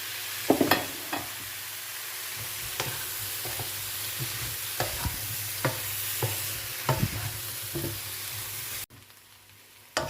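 Drumstick and eggplant pieces fry and sizzle in a pan for sambar, with a steady crackling sizzle and several sharp scrapes and knocks of a spoon stirring them, close up and with no talk, before an abrupt cut near the end.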